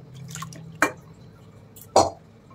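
Rasmalai poured from a pot, two distinct wet splashing drips about a second apart, close and soft against a quiet background.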